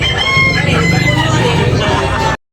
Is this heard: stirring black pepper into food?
no